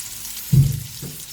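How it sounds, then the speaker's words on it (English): Potatoes roasting in a pan give a short, low burst of sizzle that quickly fades, followed by a fainter second hiss over a quiet background. "Make sure you are rotating the potatoes in between so that there is an even roasting on all the sides of the potatoes"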